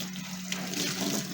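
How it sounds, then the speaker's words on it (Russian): Water runs steadily from a kitchen tap into a sink while it is being washed, a continuous close hiss and splash with no pauses over the short stretch. "Сейчас будем раковину мыть."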